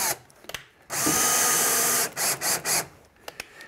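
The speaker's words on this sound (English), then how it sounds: "the first thing I'm going to do is set all these screws and then take them back out again" A power drill driving screws into a sink cabinet while fitting flip-out drawers, with one long loud whirring run followed by three shorter bursts, close by and without talk.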